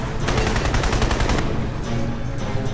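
Incendiary ammo rifle fire in Crysis, a rapid loud burst of automatic shots followed by a few scattered single rounds over a constant dense background rumble.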